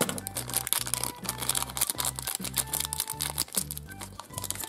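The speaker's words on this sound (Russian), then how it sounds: "Начнем с маленького пакетика." A small plastic packet from a surprise toy set crinkles and rustles in close, busy bursts as it is handled and opened, with bright crackly texture over a low background hum.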